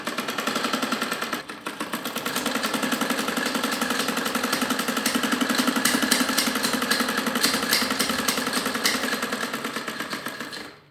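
A sewing machine stitches buckram stiffening into a Ludhiana-style salwar with a rapid, even mechanical rattle that runs nearly unbroken at close range, with a brief dip early on before stopping at the end.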